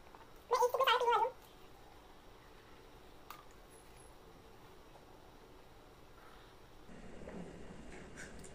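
Bitter homemade juice is gulped in one short, wet swallowing burst near the start. A long, quiet room hush follows, with faint rustles toward the end.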